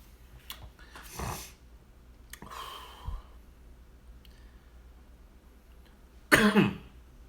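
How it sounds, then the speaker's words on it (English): A man coughs in a few harsh, separate bursts spread across a quiet room, ending with a louder, rougher cough, close to the listener. "I had that compound cough."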